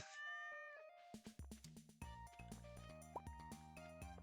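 Cartoonish cat meows from Stardew Valley ring out over upbeat in-game music, with a few short separate calls standing clear of the tune.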